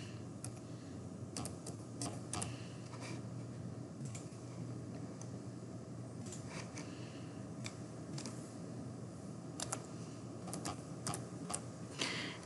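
Faint, sparse keystroke clicks from a computer keyboard tap out irregularly over a steady low room hum, with no voices.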